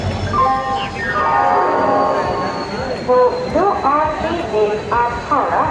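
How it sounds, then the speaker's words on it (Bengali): A train pulls into platform 22 at Howrah station, its long steady horn-like tone and rumbling wheels filling the busy platform while voices and announcements overlap throughout. "আমাদের ট্রেন এখন ঢুকছে"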